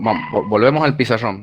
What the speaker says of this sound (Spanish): ese es mi perro ladrando